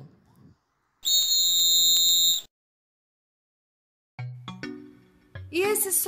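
A whistle is blown in one sustained shrill blast, then after a pause a second burst of whistling tones rises and warbles, loud and alone with no talk over it.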